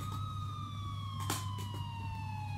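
A police siren wails far off, its steady tone slowly falling in pitch, over a low constant hum, with a brief burst of noise midway.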